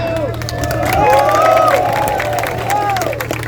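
A crowd at a protest gathering cheers and shouts loudly, a dense mass of voices with some clapping rising and holding for several seconds, close and full.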